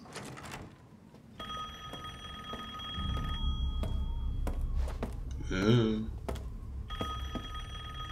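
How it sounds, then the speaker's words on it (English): Telephone bell ringing in the horror video game Resident Evil Village, repeated rings in bursts over low ambient rumble, with a brief vocal sound near the middle. "Is there a phone ringing?"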